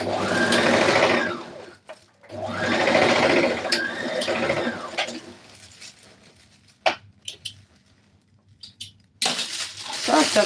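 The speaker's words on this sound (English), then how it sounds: "this is how I sew my lining piece to the main fabric" Electric sewing machine stitching a lining piece to the main fabric of a Rwandese cultural dress, two steady whirring runs separated by a short pause, followed by quiet clicks and handling of fabric and tools.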